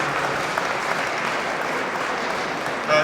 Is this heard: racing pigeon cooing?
no